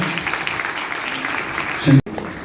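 Applause for a young man at an Arya Samaj gathering, a dense, even clatter of hands throughout, broken by a short thump and a brief cutout near the end.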